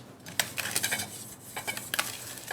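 Metal pans clink and clatter in short, quiet bursts as they are handled and set down, with no talking.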